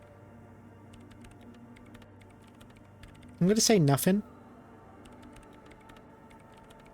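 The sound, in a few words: typing on a computer terminal keyboard in video game Disco Elysium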